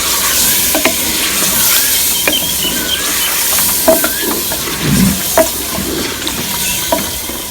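Spices and garlic paste stirred around in a hot, sizzling pan for a chicken and bottle gourd curry, with steady frying hiss and scattered scraping clicks from a utensil, up close and without any talking.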